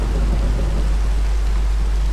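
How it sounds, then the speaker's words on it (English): Rain falls steadily in the video game Minecraft, a loud, continuous hiss with a low rumble and no breaks. "And it started raining"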